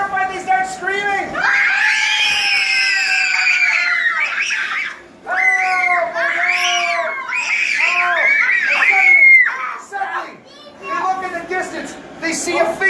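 A group of children screaming loudly and close at a vacation Bible school event, long shrill overlapping shrieks that break off and start again in several bursts, with some high yelps and squeals between.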